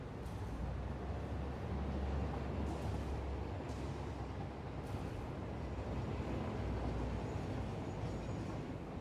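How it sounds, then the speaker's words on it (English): Trains run in the factory-building video game Satisfactory, a continuous dense low rumble and rolling rail noise with faint higher whooshes, steady and moderately quiet throughout without talk. "It's because I'm now forcing a lot more trains down this run because I started to connect things up."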